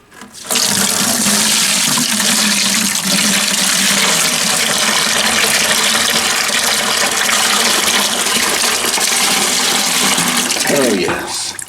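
A bucket of water mixed with clay pours out in one loud, continuous gushing rush close by, lasting around ten seconds before it tapers off at the end.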